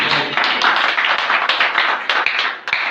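A church congregation claps together in steady, dense applause that fills the whole moment, loud and close, with no speech over it.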